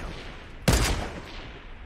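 A single sharp burst of gunfire in the Fortnite video game, moderately close, with a short rumbling tail fading over a quiet background.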